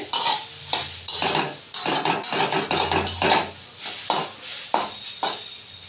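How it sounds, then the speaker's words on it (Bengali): Thin strips of sweet potato frying in ghee while being stirred, bursts of close, loud sizzle and crackle broken by rhythmic spatula scrapes against the pan, several strokes per second, no voices. "একটু ভাজতে দিলাম মিষ্টি আলুটা। ঘিয়েতে একটু ভেজে নেবো"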